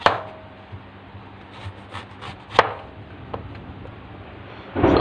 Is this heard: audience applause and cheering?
no